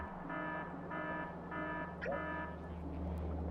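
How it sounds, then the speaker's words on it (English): A video game alarm for a broken pipe and stopped flow sounds as repeated buzzing pulses in a steady on-off rhythm over a low hum, moderately loud, with a brief chirp partway through. "as soon as like any pipe blows up and the flow stops, yeah, we're gonna get the alarm"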